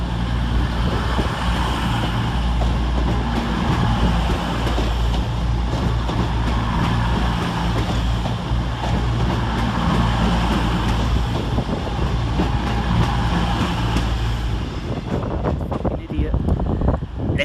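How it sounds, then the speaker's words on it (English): Class 221 unit 221130 pulls out of the sidings at Sheffield station on an empty stock move, a steady low engine drone with wind buffeting throughout, the rumble easing near the end. "Working an ECS move out of the sidings at Sheffield is 221130 in preparation for the 1551 cross-country service to Newcastle."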